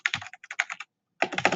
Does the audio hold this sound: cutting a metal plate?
no